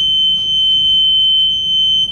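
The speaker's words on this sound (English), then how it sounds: "it'll continue to alarm until you actually regain negative pressure" A negative pressure isolation system's alarm monitor sounds a loud, steady high-pitched electronic tone that holds unbroken throughout, with no voices over it.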